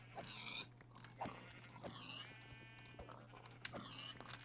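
Pigs in the Minecraft video game give repeated short grunting oinks over a steady low hum, faint and scattered through the scene, with other game noises mixed in and no talking.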